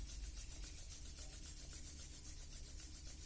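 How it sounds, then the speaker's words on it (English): Two palms rubbed briskly together during a meditation, a steady close swishing friction that repeats in an even back-and-forth rhythm, soft and continuous with no talking. "Rub your two palms."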